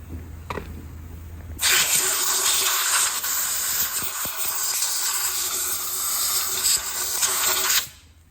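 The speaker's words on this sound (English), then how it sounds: "A little bit more brake cleaner there." Aerosol brake cleaner sprays steadily into the inlet manifold of a David Browne 1690 tractor engine under rebuild, a loud continuous hiss lasting about six seconds before cutting off, with a brief quieter hiss just ahead of it.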